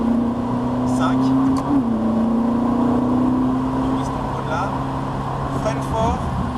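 A Ferrari 458 Italia with a 570 hp engine accelerates on the Laquais race circuit, its engine note droning steadily and rising slightly in pitch, heard from inside the car.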